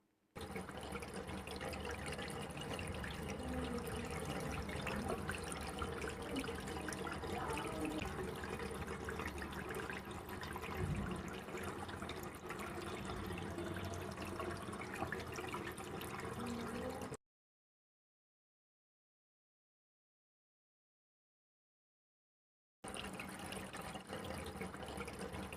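A water pump motor runs with water rushing steadily from a magic tap, a dense continuous wash of flow that cuts off abruptly into silence before resuming near the end; no one speaks.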